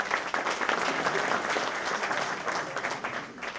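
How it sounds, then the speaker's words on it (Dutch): Audience applause fills a hall at a municipal election debate between party leaders, dense steady clapping from many hands throughout, fairly loud and close, with no speech over it. "Applaus voor Wim Duis."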